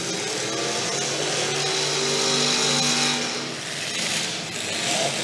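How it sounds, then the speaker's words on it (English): Race car engine at the Keystone Nationals dirt track race, a loud, steady roar that swells and dips slightly as the car runs, heard from a distance with broadband crowd and track noise around it. "Motor sounds pretty good nonetheless."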